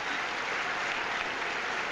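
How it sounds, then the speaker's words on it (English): An arena crowd applauds a figure skating performance with dense, even clapping that continues without a break throughout. "The crowd really acknowledging a great skate too."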